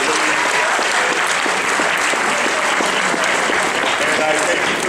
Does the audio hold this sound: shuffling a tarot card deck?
no